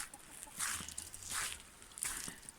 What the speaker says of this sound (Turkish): Tavuklar da burada otluyor hala geziyorlar.